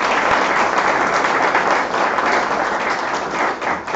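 Audience applause welcoming guests at a Central American thought forum: loud, continuous dense clapping from a large crowd, holding steady for the whole stretch.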